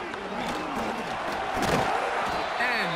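A stadium crowd in Madden 25 lets out rising oohs and ahs, a swelling murmur of voices that peaks briefly before settling, under continuous commentator talk.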